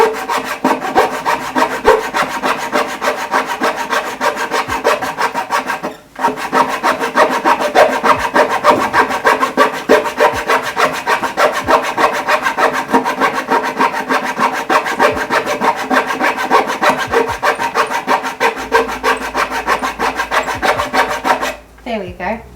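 Hand saw cutting through wood in long, steady back-and-forth strokes, loud and close, with two brief pauses between runs of rasping strokes.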